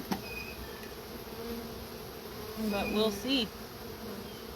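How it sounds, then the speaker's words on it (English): Honey bees buzzing around a hive, a continuous close hum with a brief spoken phrase partway through. "Just for the sheer amount of bees."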